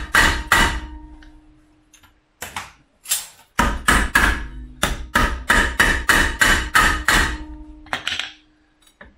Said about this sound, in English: Using the other side of the copper hammer, there you go.